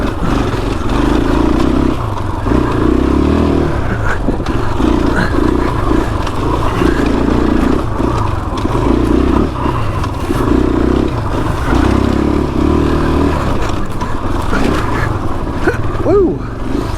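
A motorcycle rides a singletrack trail near Cataviña in Mexico with the throttle opened up, its engine roaring loud and continuous as it surges and eases repeatedly through the turns.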